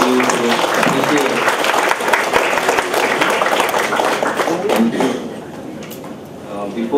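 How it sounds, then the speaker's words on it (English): An audience at an academic lecture on modernisms in India applauds in a dense, sustained burst that eases off toward the end, with voices faintly mixed in. "I think this scholarly exchange of connections through various sections deserves a huge round of applause."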